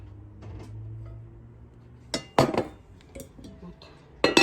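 A frying pan lid and a large frying pan clinking together near the listener: a few sharp metallic clinks and clatters spaced apart, following a quiet stretch of low background hum.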